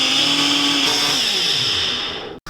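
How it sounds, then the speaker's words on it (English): A drink blender whirs steadily while blending raspberries, powdered sugar and lemon juice into a sauce, a loud continuous motor drone whose pitch shifts slightly, then cuts off abruptly near the end. "Pop it on the blender and we're just going to hit blend."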